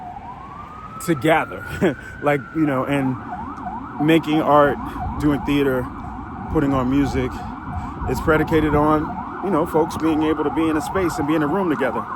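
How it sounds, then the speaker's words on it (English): Emergency vehicle sirens on a New York City street wail and rise and fall repeatedly throughout, fairly loud and steady beneath a person talking continuously over them. "Sorry about the sirens."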